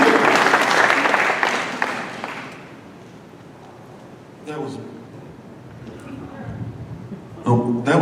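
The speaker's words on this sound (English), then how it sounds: "It's okay, you can clap." An audience applauds after a film screening about homelessness, a dense burst of clapping that fades out within a few seconds, followed by a speaker talking into a microphone.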